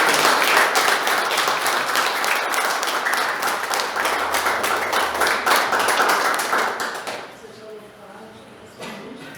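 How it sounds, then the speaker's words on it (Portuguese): A Presbyterian church congregation in Olaria applauds during a communion service, a loud, dense burst of clapping close by that holds for several seconds and then dies away quickly. "Salve de palmas."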